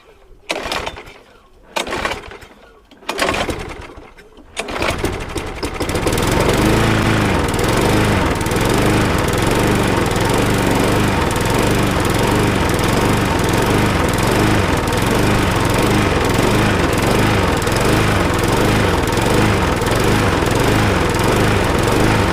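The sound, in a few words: Briggs and Stratton lawnmower engine running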